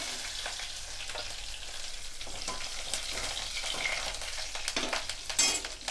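Mustard seeds, fenugreek, curry leaves and a dried chilli sizzle in hot oil with a continuous crackling hiss, a few stirring clinks and a louder spitting burst near the end.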